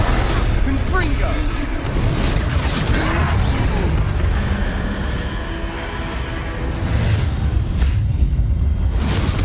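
A Confringo fire spell explodes during a troll battle in the Hogwarts Legacy video game, with dense, continuous booms and whooshing impacts filling the mix throughout, and game voices layered on top.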